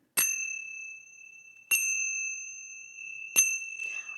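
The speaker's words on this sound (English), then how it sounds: "You'll hear 3 chimes to start, and then 1 chime at the end of the meditation." Three meditation chimes ring one after another, about a second and a half apart. Each is a clear, bright strike that sustains a long, pure tone under the next.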